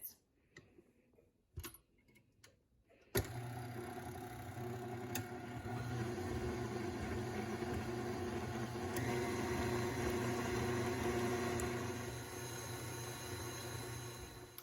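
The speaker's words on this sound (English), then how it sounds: "we are going to mix this using a paddle mixer for 1 to 2 minutes" A stand mixer with a paddle attachment beating chocolate cake batter. After a few light clicks and knocks, the motor starts abruptly into a steady, close, humming whir that holds for the rest of the time.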